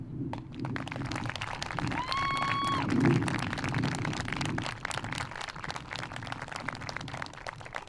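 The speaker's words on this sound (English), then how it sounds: "Will you actually now offer them applause?" A commencement audience applauds in a large hall, a steady wash of many hands clapping at moderate volume with a brief tonal chime near the start. The clapping thins out gradually toward the end, with no talking over it.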